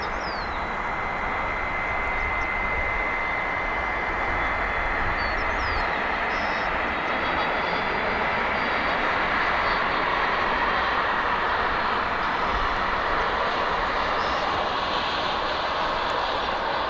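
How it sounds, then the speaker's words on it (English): A Boeing 767 airliner arrives at Dallas/Fort Worth airport in the morning, its jet engine roar a steady, loud drone that swells slowly and holds throughout. "catch this 767 coming in from Austin"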